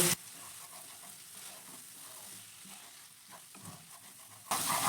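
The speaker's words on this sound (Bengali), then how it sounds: "মটরশুঁটির সঙ্গে মশলাটা কষানো একটু ভালো করে হলে কিন্তু খেতে ভীষণই ভালো হবে" Boiled peas and masala being stir-fried in a pan, a soft continuous sizzle with faint stirring scrapes heard close up and alone, rising slightly at the very end.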